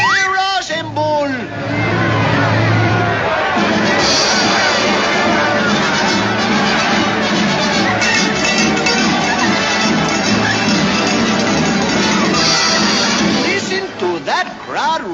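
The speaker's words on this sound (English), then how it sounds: "That crowd roar." A cartoon boxing arena crowd roars and cheers, a loud sustained babble of shouting voices lasting over ten seconds, with an excited announcer talking over it.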